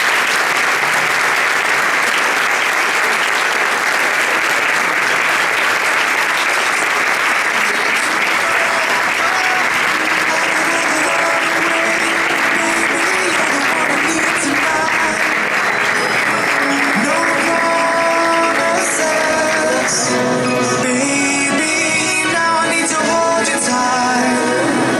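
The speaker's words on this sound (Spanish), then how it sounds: "Recibamos con un fuerte aplauso a nuestra diseñadora más internacional" Sustained, loud audience applause welcoming fashion designer Dolores Cortés at a show event, steady clapping with some crowd noise and music rising beneath it toward the end.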